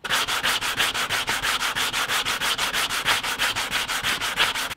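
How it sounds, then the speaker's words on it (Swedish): A wooden box with an embroidered lid is sanded by hand in steady, rapid back-and-forth strokes, a close, loud, even rasping rhythm running throughout with no voices. "så är det putsning, putsning,"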